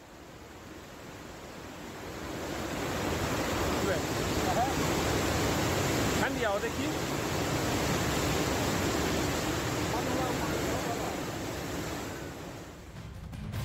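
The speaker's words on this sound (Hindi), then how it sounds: "कई नदियां जो कि इस पूरे इलाके से जुड़ी हुई थी वो उफान पर आ गई और इसी तरीके से बहाव नदी का" A river swollen after a cloudburst in Kullu rushes with a loud, steady roar. The dense broadband wash swells in and holds for the whole stretch, and a voice briefly speaks over it.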